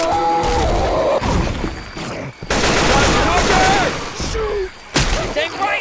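Rapid gunfire in Left 4 Dead, with loud bursts and sharp repeated shots coming in several close, dense volleys separated by brief gaps, mixed with other game sounds.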